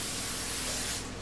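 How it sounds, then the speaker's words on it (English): Cooking spray misted from an aerosol can to grease a casserole dish, one continuous loud hissing burst lasting just over a second, close up. "Just with some cooking spray"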